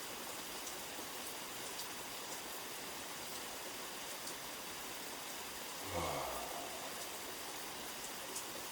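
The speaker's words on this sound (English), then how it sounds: "I'm grateful for this rain." Rain falls steadily outdoors during a slow qi gong session, an even, dense hiss of drops hitting the ground that holds level throughout, with one short low swell of noise near the end.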